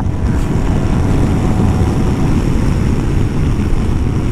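A 2022 Yamaha TMAX scooter in Sport mode accelerates hard, its engine drone loud and continuous, heavily mixed with rushing wind buffeting the microphone.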